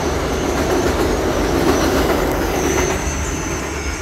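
A train runs along rails in New York City with a steady, close rumble and faint clickety-clack of wheels, a continuous loud roar lasting throughout with no talk over it.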